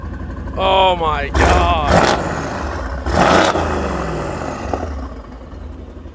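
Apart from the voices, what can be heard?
BMW M2 engine revving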